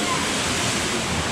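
Waterfall at Discovery Cove in Orlando, a dense continuous rushing roar of falling water, loud and steady, heard close up.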